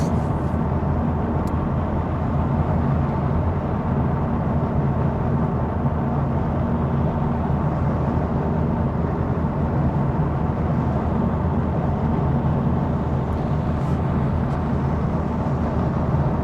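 Honda Civic Type R FL5 on the move, a steady droning engine and road roar at cruising speed, continuous and fairly loud with no clear shift breaks.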